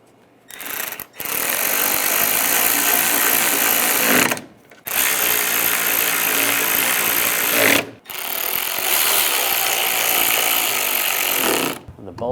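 A power driver tightens headlight bolts on a 2006-2009 Mercedes-Benz E350 in three long, loud, rattling bursts, each separated by a short pause.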